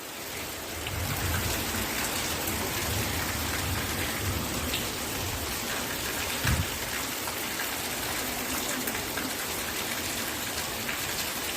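Steady rain falls over farmland at monsoon rice-transplanting time, a dense, even hiss that runs unbroken throughout with one brief soft thump, and no speech.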